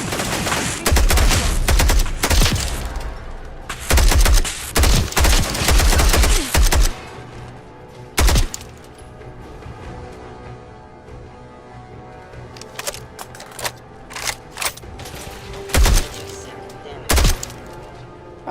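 Video game gunfire, loud bursts of rapid automatic shots in dense volleys early on, then sparser single and short bursts later, with quieter game ambience between them.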